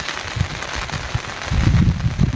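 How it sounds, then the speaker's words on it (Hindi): Heavy, steady monsoon rain pours down in a hilly region, producing a constant close hiss that grows louder and denser toward the end. "बहुत तेज बारिश है। लगातार बारिश लगी।"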